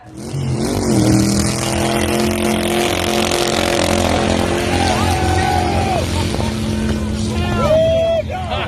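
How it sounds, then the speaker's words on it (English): A loud car on a beach roars close by with sustained engine revving and rising and falling pitch, while voices talk over it. "It's the loudest car on the beach."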